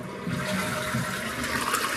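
A toilet flushes in a steady, close rush of churning water that continues throughout without any voices.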